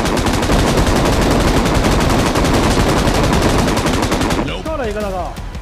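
An M249 light machine gun in PUBG roars in a long, dense, continuous burst of rapid gunfire, loud and close, before it cuts off and a voice speaks briefly.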